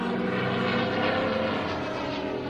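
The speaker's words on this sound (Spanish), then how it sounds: "Los aviones fascistas bombardean la villa de hora en hora." Droning engines of fascist bombing planes as a radio-drama effect: a steady, loud propeller-aircraft roar that holds evenly throughout and fades slightly toward the end, with no voices.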